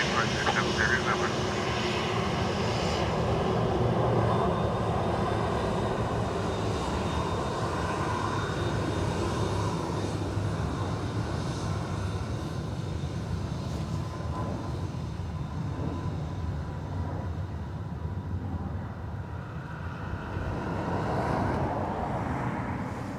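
An Emirates airliner comes in to land at Dublin Airport, a steady broad jet engine roar that swells and fades over about twenty seconds, close and loud, with radio chatter underneath.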